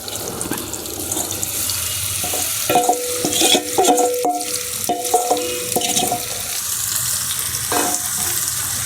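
A paneer tikka masala mixture hits a very hot pan and fries loudly, with rapid clanking and scraping of a spoon against the pan in bursts through the middle section.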